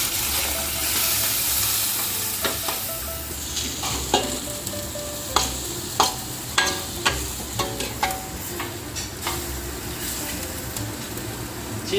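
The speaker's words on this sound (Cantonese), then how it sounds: "煎下呢個蝦去，香啲。" Shrimp fried in a wok give a continuous crackling sizzle, with sharp metallic scrapes and clanks from stirring that grow more frequent in the second half; no voices.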